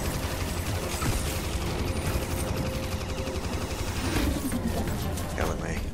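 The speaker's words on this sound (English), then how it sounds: "Got to let my Gatling gun charge here for a bit" A Gatling gun firing in the video game Starlink: Battle for Atlas, a dense continuous rattle of rapid shots running the whole time, mixed with game effects and a voice talking over it.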